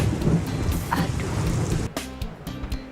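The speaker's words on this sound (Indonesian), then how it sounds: "Hujan." Heavy rain pours loudly with a deep thunder rumble through the first two seconds, then the downpour continues more thinly with scattered drops and lighter patter.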